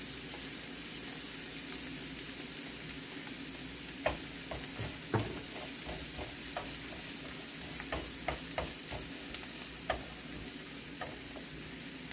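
Vegetables sauté lightly in a pan for a soup, a steady low sizzle running throughout with scattered soft scrapes and taps of stirring, close and fairly quiet, no voices.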